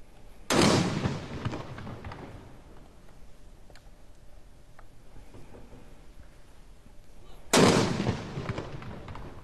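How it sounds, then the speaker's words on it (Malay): Two heavy ceremonial cannon salute booms, part of a 12-shot salute marking Ramadan in Brunei, several seconds apart, each rolling out into a long echoing rumble, with faint background noise between them. "Ramadan disemarakan dengan 12 edas tembakan meriam di ibu negara petang tadi."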